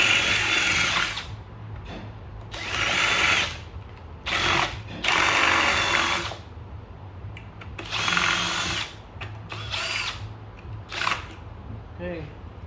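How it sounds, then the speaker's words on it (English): A power drill bores out rivets on a Lexus SUV hybrid battery during a cell replacement, several loud whining bursts of a few seconds each separated by pauses, close up, with a person talking in between. "Drilling the rivets, it worked better this time."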